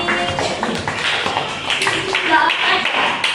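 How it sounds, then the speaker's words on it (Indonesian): A classroom group claps hands together in a burst of loud, close, overlapping claps, with voices talking over them. "Oke, tepuk tangan untuk artistik."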